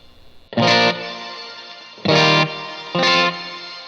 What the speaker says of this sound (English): Shimmer reverb